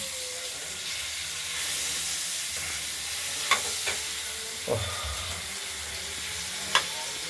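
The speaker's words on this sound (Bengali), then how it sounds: "আর আলুগুলোকে আমরা ভেজে নিচ্ছি" Potatoes frying in a pan for a Bengali prawn and potato curry, a steady soft sizzle with occasional stirring clinks and scrapes, no talk.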